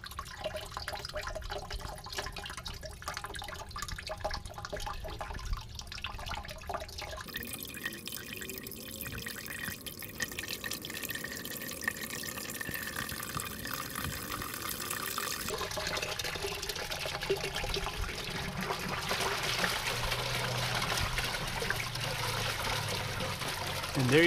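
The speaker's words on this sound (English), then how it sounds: "when you see those bubbles, you know it's not long before the siphon starts" An aquaponics siphon begins draining, with steady trickling and dripping water that swells into a fuller, gurgling rush as the drain takes hold, continuous and close, under occasional quiet talk.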